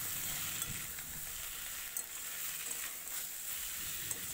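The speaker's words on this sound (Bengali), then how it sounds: "খোসা ছাড়ানো সেদ্ধ করা গাঠি কচু দিয়ে নাড়াচাড়া করে নেব" Peeled, boiled taro root (gathi kochu) sautés in a pan with a constant, fairly quiet sizzle and a few faint stirring taps, with no voices.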